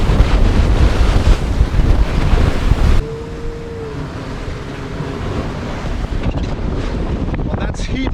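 Wind and ocean waves on a sailboat crossing the North Atlantic in heavy conditions, a loud buffeting roar that drops abruptly to a softer steady rush of wind and water with faint creaks.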